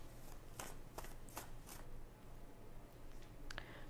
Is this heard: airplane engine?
no